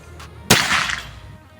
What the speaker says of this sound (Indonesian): Lanjut lagi tembakan kelima.